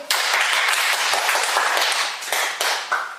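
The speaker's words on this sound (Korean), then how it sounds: "우리 박수 한번 쳐" An audience bursts into loud applause, a dense, close clapping that holds steady with a few brief dips before cutting off.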